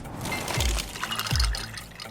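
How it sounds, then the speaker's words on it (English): A brand new ice maker drops cubes into a fresh glass of water: two distinct plunking splashes about a second apart, with gurgling water between them, close up and without talk. "Those are the sounds of a brand new ice maker dropping cubes into a fresh glass of water"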